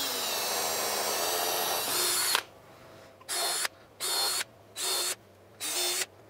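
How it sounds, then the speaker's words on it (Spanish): A power drill bores pilot holes in wooden boards for screws while a bunk bed is being built. One long whirring bore is followed by four short, loud bursts with pauses between them, and nobody speaks. "le voy a hacer a todos los que ya están antes de meter tornillos para no ir a cuartear la madera"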